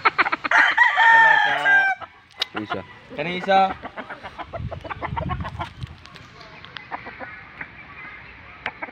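White silkie chickens on a farm crow and cluck in bursts, loudest in the first few seconds, then fainter clucking continues under someone talking nearby.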